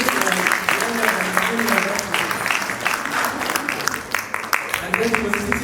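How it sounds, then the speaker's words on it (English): Audience at a university pharmacy school's 50th anniversary gala dinner applauds in a sustained, dense round of clapping, with a speaking voice carrying over the crowd at moments. "I think we should also applaud him."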